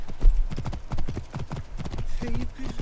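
Horse hooves clip-clop in a steady trotting rhythm while riding in Assassin's Creed Origins, loud and close, with a voice talking over the gait.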